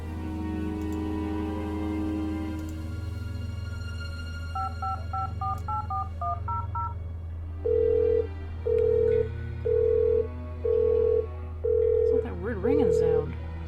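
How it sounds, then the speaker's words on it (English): Telephone dialing in the video game Art of Murder: FBI Confidential, a quick run of keypad tones followed by five evenly spaced ringback tones, over a low steady hum and a brief voice at the end. "Nobody answers their phones in this game."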